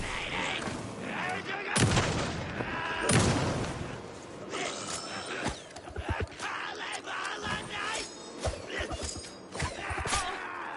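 Gunfire in the Alan Wake 2 video game: heavy booming shots and loud crashing blasts recur in bursts through a dense, chaotic battle mix, with a strong impact near the start and sharp reports scattered throughout.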